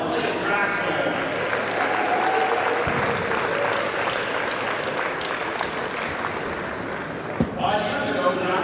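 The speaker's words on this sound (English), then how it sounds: "Round of applause for Draxl" A crowd at a Calgary tennis Challenger tournament applauds a player as he is introduced, a dense sustained wash of clapping from many hands, moderately loud and continuous, with an announcer's voice talking over it.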